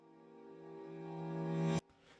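A reversed leading five chord in a minor key swells steadily from soft to loud, then cuts off abruptly, leaving a faint tail.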